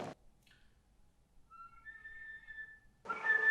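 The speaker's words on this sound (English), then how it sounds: "So on the whistle tone itself, keep your lips quite relaxed." Faint, thin, airy flute whistle tones that slide and hold briefly, quiet and close, followed by a breathy burst of air.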